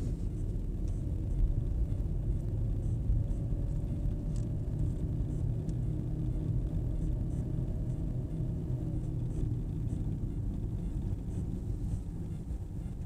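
A car approaches along a road in the evening, a steady low rumble with rising engine tone heard from a distance under wind buffeting on the microphone, with no talking.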